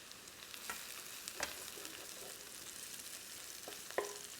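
Grated garlic cloves hit an onion mixture in a hot pan, a soft low sizzle with a few stirring scrapes and clinks, quiet and close.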